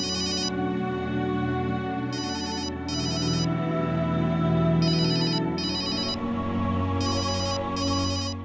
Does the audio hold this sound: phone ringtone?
yes